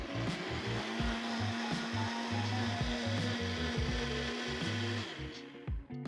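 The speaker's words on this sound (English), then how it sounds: "Put the lid on nice and tight and blend this on high for about a minute." A blender runs on high, pureeing a chilled corn and green curry soup, a loud steady motor whine with a pulsing churning rhythm beneath it for about six seconds before winding down at the end.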